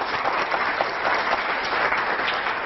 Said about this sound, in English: So join me in a round of applause.